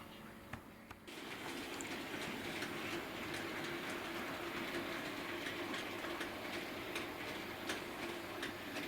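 A Bachmann Class 20 model diesel locomotive in BR Railfreight livery hauls weathered clay wagons around a layout, giving a steady close rolling whir with faint rhythmic clicking over the rail joints. No one speaks.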